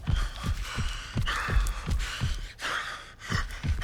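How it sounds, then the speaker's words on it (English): Hans, a heavyset killer in The Texas Chainsaw Massacre video game, breathes heavily and close, with a slow rhythm of deep, throbbing huffs and harsh hissing exhales, about nine in a few seconds. "You can hear Hans is heavily breathing."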